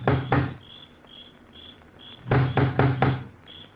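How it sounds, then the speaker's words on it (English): A huge iron knocker on a front door at the top of wide stone steps bangs twice, then after a pause in which crickets chirp, comes four heavy, evenly spaced knocks, loud and close. "He looks about uneasily, then lifts the huge knocker on the door."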